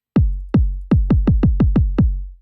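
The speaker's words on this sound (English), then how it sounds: "it is basically an analog kick that sounds like this" Eight punchy analog-style kick drum hits from a Korg Electribe 2 with deep, booming low end and quick decay, played alone in a steady rhythm that speeds up midway.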